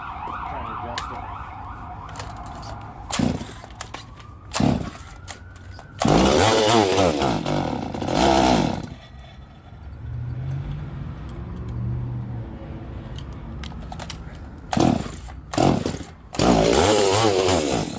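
A custom-built Stihl 026 chainsaw engine runs while its carburetor is being adjusted, revving up in several loud bursts between lower idling stretches, with a wavering pitch.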